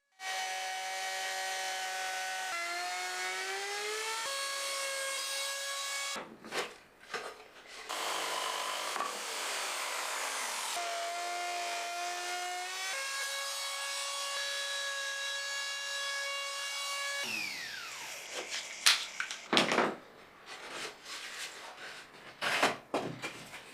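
A jigsaw and then a router with a flush trim bit cut wood, giving sustained tonal buzzing passes that shift pitch as the cut changes, broken by short scraping and handling noises and a few sharp knocks near the end.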